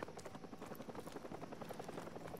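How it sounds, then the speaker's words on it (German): A helicopter in the Call of Duty: Modern Warfare Remastered video game gives off a fast, rhythmic rotor thump, fairly faint and steady throughout the short stretch without speech. "Der Helikopter ist zurück."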